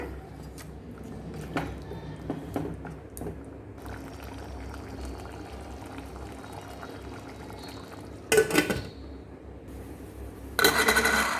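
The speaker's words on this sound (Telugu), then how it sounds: "మటన్ వేగి కాస్త మగ్గిన తర్వాత ఒక అర గ్లాస్ వరకు నీళ్ళు వేస్తున్నాను" Water, about half a glass, poured onto partly cooked mutton in a pressure cooker for pulao: a steady splashing pour with short louder bursts near the end, close and clear, no talk.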